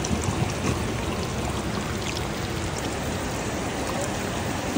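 Heavy rain pours down steadily on a house rooftop, a dense, even hiss of drops and running water heard close up without any voices.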